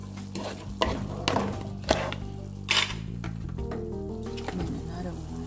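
Crab and fish frying in butter in a pan, with a steady sizzle, stirring and pan knocks, and a voice speaking intermittently over it.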